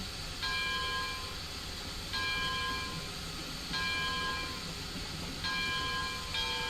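A locomotive bell in a train simulator game rings in steady, evenly spaced metallic clangs, about four strikes with ringing tails over a low rumble, fairly quiet.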